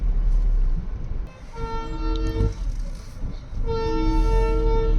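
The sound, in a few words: train arriving near road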